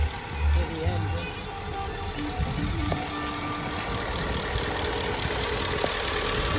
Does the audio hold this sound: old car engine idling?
yes